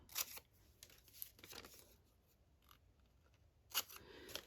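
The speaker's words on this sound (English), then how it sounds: "So that I can cut with scissors." Scissors cut paper for a glue book, a few quiet snips and crisp crinkles spaced out over several seconds, close by and faint, with no talking.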